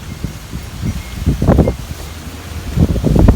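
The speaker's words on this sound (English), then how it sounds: "so it's a nice windy day today" Gusts of wind rustling potted plants in a patio container garden on a windy day, swelling and fading in soft bursts, loudest around the middle and end.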